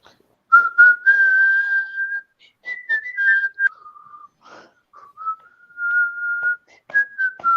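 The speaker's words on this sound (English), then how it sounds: "The whistling isn't helping." A person whistles a song tune during a trivia night, clear pure sustained notes in short melodic phrases separated by pauses, close and loud with almost no talk.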